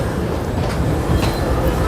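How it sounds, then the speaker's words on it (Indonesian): A Korean GTX high-speed train runs with a loud, close rumbling roar and faint clattering of wheels on rails, steady throughout the short stretch with no one speaking. "GTX ini kereta cepat yang baru aja operasi ya guys."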